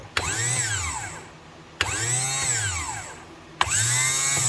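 A whining MerCruiser boat tilt and trim pump motor runs in three bursts, each starting with a sharp click and a rising then falling whir, fairly loud and close.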